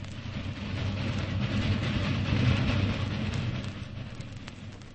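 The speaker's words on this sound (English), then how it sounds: "It's a sad sound. A train in the night." A train passing in the night, a steady low rumble of wheels and cars filling the whole stretch, swelling slightly toward the middle and easing off, with a hiss like rain over it.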